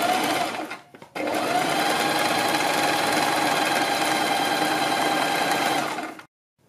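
A sewing machine stitches a kurti neckline beside buckram interfacing. A short burst, a brief pause, then a long steady close-up run that cuts off sharply.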